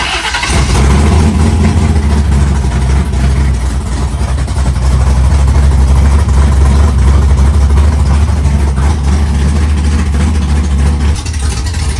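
An Oldsmobile Cutlass engine roars loud and close, holding a heavy, sustained rev for about twelve seconds with no voices over it.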